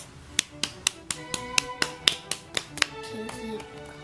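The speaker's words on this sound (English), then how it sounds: "Let's give him a round of applause" Applause for the winner of a toy race, given as a string of about a dozen sharp, close, separate claps in a brisk rhythm that thins out toward the end.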